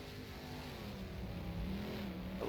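A 410 sprint car engine on a dirt oval in rFactor drones steadily at high revs with a faint rising whine near the end, moderately loud and continuous with no voices.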